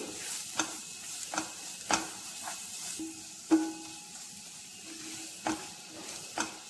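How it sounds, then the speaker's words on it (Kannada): Chilli and pepper powder masala roasts in a pan, with a faint steady sizzle under scattered scraping clicks of a spoon stirring in an uneven rhythm, no voices. "ಚಿಲ್ಲಿ ಪೌಡರ್ ಹಾಗೂ ಪೆಪ್ಪರ್ ಪುಡಿಯನ್ನು ಹಾಕಿ ಚೆನ್ನಾಗಿ ಹುರ್ಕೊಳ್ತಾ ಇದ್ದೀನಿ"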